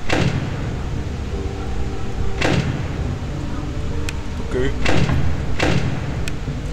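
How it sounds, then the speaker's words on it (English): Doors slide and slam shut repeatedly in the Ultimate Custom Night horror game, sharp mechanical clanks landing every second or two amid an electronic hum, with a person talking excitedly over them. "I'm gonna do closing the right door anyways."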